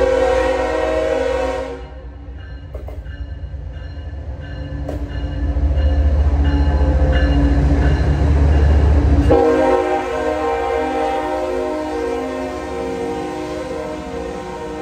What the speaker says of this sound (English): that was a very slow moving train blasting its horn